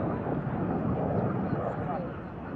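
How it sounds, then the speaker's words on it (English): A Lockheed T-33 jet aircraft flying past at the EAA AirVenture airshow, a steady, loud roaring rush of jet noise that eases slightly toward the end, with a voice talking faintly underneath. "There is the T-33, the stretched P-80 Shooting Star."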